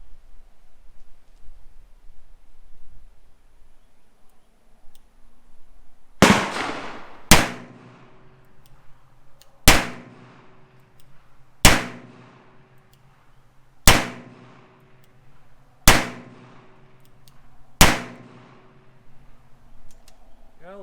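Seven sharp gunshots from a Smith & Wesson Model 10 revolver firing .38 rounds, loud and close, spaced evenly about two seconds apart with ringing decay after each.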